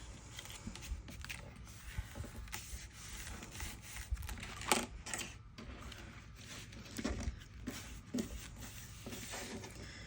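Recycled cardboard packaging being folded and wrapped around into a handmade journal, with soft scraping, rubbing and crinkling in close, quiet bursts over about ten seconds and no speech.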